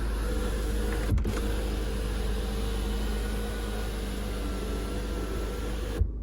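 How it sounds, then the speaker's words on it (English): Electric sunroof on a 2018 Mercedes-Benz E220d AMG Line opening, a steady motor whir with a click at the start and a soft thunk as it stops, over a low cabin hum. "So if it's a soft screen sunroof, and then the sunroof opens."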